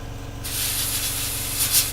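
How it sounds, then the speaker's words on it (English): An airbrush or spray can hisses as it sprays white paint onto parts of a Tamiya 1/48 F-16 Falcon model kit. After a quiet start, one steady, close airy spray holds for the rest of the clip. "So we're just going to go around and spray anything that's white"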